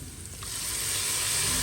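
Red chili powder and Kashmiri chili spices simmer with a little water in a pan over a low flame for goat trotter curry, giving a steady, soft sizzle that builds slightly louder, close by with no talking.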